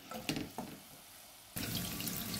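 Tap water runs into a sink while fish is rinsed clean for a home-cooked dish, a steady splashing stream that grows louder and fuller partway through, with a few brief knocks early on.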